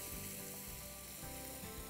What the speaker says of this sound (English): now here goes in the wine. If it's Italian, there has to be wine. How nicely it sizzles.